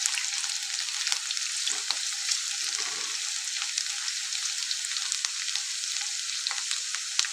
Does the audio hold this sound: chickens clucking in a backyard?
no